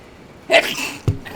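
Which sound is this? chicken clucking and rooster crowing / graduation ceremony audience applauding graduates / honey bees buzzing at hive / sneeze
sneeze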